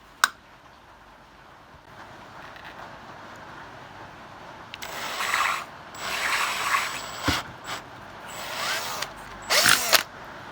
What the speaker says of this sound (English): I'm now going to drill a thicker one